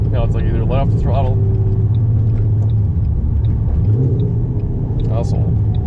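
Throttle on a 2007 Mustang GT with a swapped Coyote engine, a loud low rumble with the throttle eased off and on, heard from inside the car while people talk over it.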